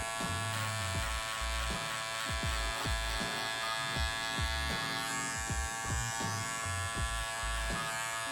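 Electric hair clippers buzz steadily while trimming a faded beard guideline just beneath the earlobe, a close, continuous drone with small shifts in pitch as the blade moves against the skin.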